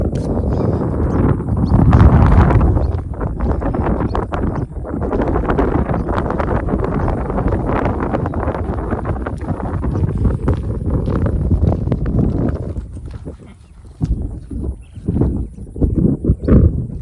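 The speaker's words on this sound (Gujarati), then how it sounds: "ઠંડો પવન આવે છે" Strong cold wind near a dam buffets the microphone in loud, rumbling gusts, easing briefly near the end before picking up again.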